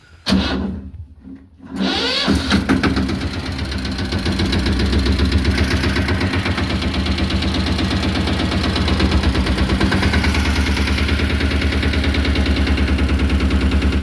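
A Mahindra Yuvraj 215 tractor engine fires up after a quiet moment and settles into a loud, steady chugging run, heard close with no talk.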